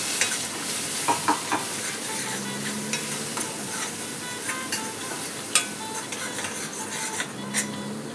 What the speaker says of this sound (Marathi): मसाला आणि जो कांदा खोबऱ्याचा जो वाटप घातलं आहे त्याचं चांगलं मिक्स करून घेते